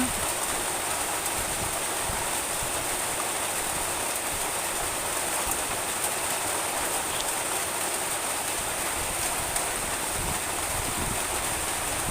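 Heavy rain pours steadily and evenly for the whole stretch, a constant hissing wash without pauses or swells, moderately quiet, with no talking heard.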